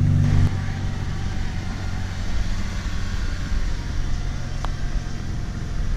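A 2014 Honda Civic fitted with a Yonaka catback exhaust idles steadily and low throughout, a continuous rumbling drone with a brief louder blip at the start and no talking.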